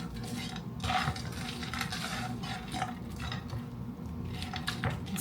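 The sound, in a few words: mixing hamburger meat and bacon in a skillet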